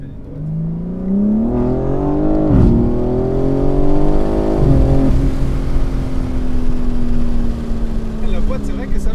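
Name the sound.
BMW M4 Competition engine revving and gear shifts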